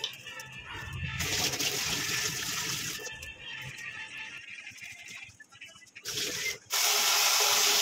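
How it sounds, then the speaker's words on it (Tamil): Vegetables for a curry being washed under running water, a continuous rushing splash with rubbing and handling noises that changes in intensity and briefly drops before surging loudly again. "குழம்பு வைக்கிற காய்கறியெல்லாம் எடுத்து வாஷ் பண்ணுறதுக்கு ரெடி பண்ணிகிட்ருக்கோம்"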